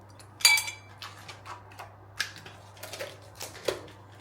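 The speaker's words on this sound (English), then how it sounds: "Right, okay, yogurt time. We're gonna spoon it in." A spoon scoops yogurt into a bowl in a home kitchen, with a series of close, light clinks and taps of metal against the dish spread irregularly over a low steady hum.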